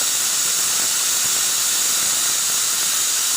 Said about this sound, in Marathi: आता मी कुकरचं झाकण लावते आणि मंद आचेवर आपल्याला 3 शिट्या काढून घ्यायच्या आहेत